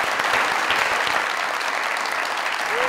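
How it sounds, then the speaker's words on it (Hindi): A comedy talk-show studio audience gives a burst of dense, loud applause, many hands clapping evenly for a few seconds. "अरे मशल के तालियां"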